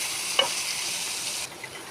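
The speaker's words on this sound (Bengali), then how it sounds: "এরপরে এটাকে আমি আরও 5 মিনিট জাস্ট ভেজে নেব" Vegetables frying with cumin and coriander in a pan, a steady close sizzle with a brief stir clink early on, continuing without talk.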